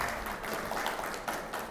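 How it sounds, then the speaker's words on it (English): Audience applause at a Siemens press conference at a machine-tool trade show, a short burst of scattered clapping from a seated crowd that runs steadily for under two seconds before fading. "Those are your claps, John, not mine yet"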